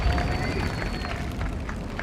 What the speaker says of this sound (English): Some well-deserved applause there, I think, for Nystrom.